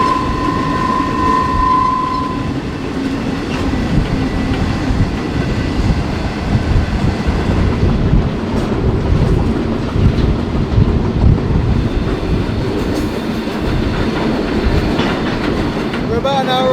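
A freight train in Mexico rolls steadily along its rails, a loud continuous rumble with rhythmic clickety-clack of wheels on track joints, heard up close from aboard the moving cars with no talk over it.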